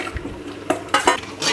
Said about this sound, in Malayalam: നന്നായിട്ട് ഇളക്കി യോജിപ്പിക്കുക.